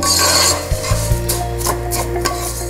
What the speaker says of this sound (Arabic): حركهم لحتى يشقروا